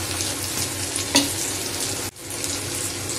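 Crab frying with garlic, turmeric and chilli masala gives a dense, steady close sizzle, with one sharp spatula clink and a short dip where the stirring shifts the pan.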